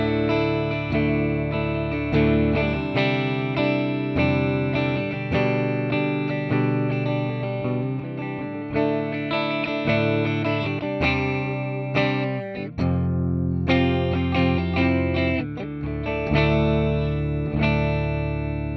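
Electric guitar played through a Joyo Preamp House amp-simulation pedal, giving a dry, jangly, Fender-like clean tone; steady strummed chords and picked notes ring out loudly and continuously with a short pause near the middle, no talking.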